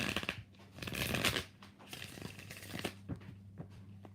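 Tarot cards are shuffled by hand in quick riffling bursts, papery flutters and soft slaps, close and fairly quiet, with short pauses between passes.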